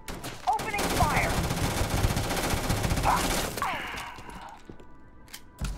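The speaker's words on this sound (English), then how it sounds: "Opening fire." Bursts of automatic gunfire from the video game Starfield, a rapid fusillade of shots over about four seconds with thuds and mechanical clatter, then fading into quieter game ambience.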